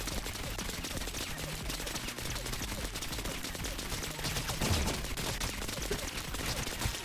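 Rapid gunfire from a weapon in the physics shooter Rounds, a fast, dense stream of sharp cracks and thuds with a louder burst near the end, set against busy game sound.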